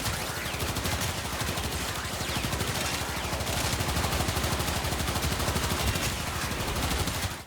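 Knell pistol firing in Warframe against level 150 enemies: a dense, loud, continuous barrage of rapid shots and impacts with no gaps, sustained throughout.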